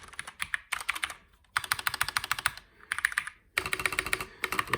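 Rapid typing on a mechanical keyboard with Cherry MX Brown switches, a ten-key version with arrow keys: dense bursts of crisp clicking keystrokes broken by short pauses, fairly close and moderately loud, with no talking.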